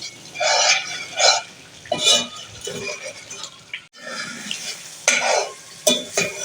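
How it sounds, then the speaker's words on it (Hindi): Masala spices fry and get stirred in a pan, with intermittent scraping and sizzling bursts in an uneven rhythm and short gaps between strokes. "अब यहाँ मैं इस मसाले को अच्छी तरह भून लूंगी।"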